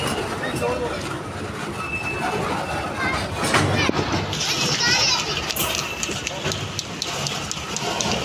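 A train slowing as it nears Bahawalpur railway station, with rumbling wagons and a brief wheel squeal rising over steady crowd and people talking on the platform.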